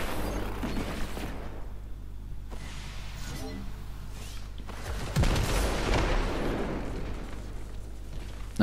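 Gunfire and sniper shots in a Destiny 2 competitive PvP match, heard as a steady wash of game noise with sporadic booming shots and a louder burst of fire near the end, no speech over it.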